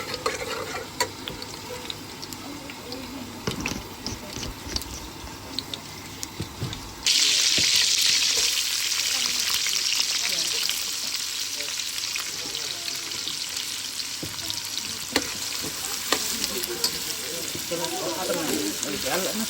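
Spices crackling in hot oil for a chicken and eggplant curry, a steady loud sizzle that jumps up sharply partway through, with scattered clatter and faint talk in the background.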